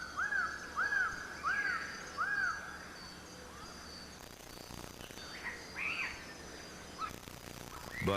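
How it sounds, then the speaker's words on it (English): Forest birds in New Guinea call in a string of four loud, clear rising-falling whistles close by, then fainter scattered calls over a steady background of insects. "the bird voices they heard throughout the forest"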